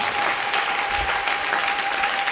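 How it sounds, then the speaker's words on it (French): A church congregation at a Wednesday service claps in a dense, steady wash of applause throughout, loud and close, with a faint voice underneath. "applaudis très bien pour le Seigneur des Seigneurs."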